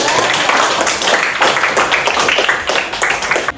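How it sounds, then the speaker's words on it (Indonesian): A classroom of students claps for a classmate, a loud, slightly uneven burst of hand claps lasting a few seconds. "oke, tepuk tangan untuk Dedek"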